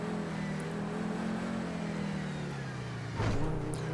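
Supercar engine in GTA 5 Online, a steady droning hum that dips slightly in pitch, then a brief louder surge of revving near the end.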